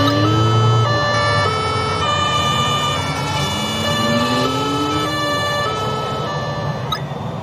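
In an emergency-response video game, an ambulance siren wails loud and continuous, sweeping up and down over a truck's engine rumble, with no speech.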